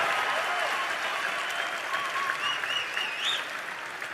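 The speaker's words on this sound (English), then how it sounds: "can we give our friends in law enforcement a round of applause" A crowd at a Turning Point political event in Montana applauding steadily, a thick wash of clapping with a few whistles rising over it.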